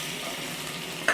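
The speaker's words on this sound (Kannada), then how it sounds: "ಶುಂಠಿದು ಸ್ವಲ್ಪ ಹಸಿ ವಾಸನೆ ಹೋಗೋವರೆಗೂ ಸ್ವಲ್ಪ ಲೈಟಾಗಿ ಫ್ರೈ ಮಾಡಿಕೊಂಡು" Ginger and green chilli fry lightly in ghee, giving a brief, steady soft sizzle with a small utensil tap right at the end.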